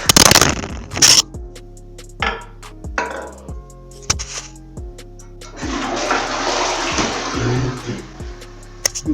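A toilet flushes as water rushes and gurgles through the bowl for several seconds, preceded by clunks and scraping handling noises close to the microphone.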